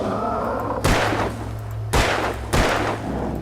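Three loud gunshots in the video game Alan Wake, sharp booming blasts spaced unevenly with brief decays, over a low game background hum.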